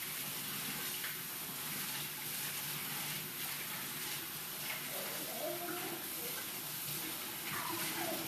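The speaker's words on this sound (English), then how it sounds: "So I'm just gonna go ahead and rinse both cans of beans real quick." Tap water runs steadily over two cans of canned beans held in a strainer at a kitchen sink, a continuous hissing gush with faint clatter, close and moderately loud, with no talk.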